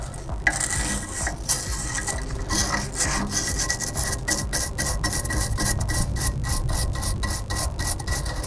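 A brush scrubs rapidly back and forth against the exhaust tailpipe of a Ford Focus ST. The strokes are close and rasping, and they settle into a quick, steady rhythm that continues throughout.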